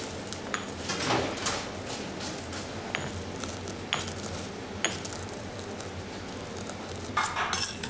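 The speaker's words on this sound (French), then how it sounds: "On va écraser." A utensil clinks and scrapes against a bowl as ingredients are crushed and mixed for a salmon marinade, giving a string of close, light metallic taps and chinks over a steady low background.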